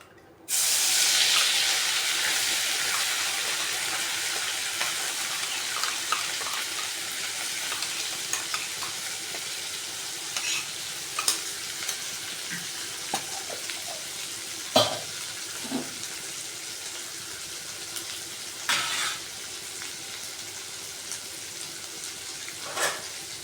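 Ground onion, garlic, coconut and ginger paste hits hot oil with a loud burst of sizzling that settles into a steady frying hiss, broken by occasional stirring clinks, close by and without talk.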